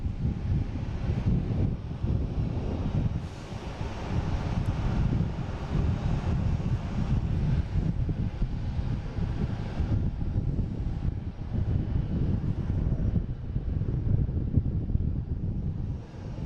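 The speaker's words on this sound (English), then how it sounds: "We have a Bombardier Challenger 300 coming in." A Bombardier Challenger 300 business jet arriving at Boston Logan rumbles with a low, steady jet roar mixed with wind buffeting the microphone, continuous and fairly strong, no voices.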